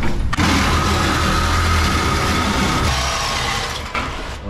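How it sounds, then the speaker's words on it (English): A Sawzall reciprocating saw cuts through the core support of a Ford Ranger truck during a 5.9 Cummins engine swap, a loud, continuous, harsh buzzing rasp that runs almost the whole time with only brief dips. "When in doubt, break the sawzall out."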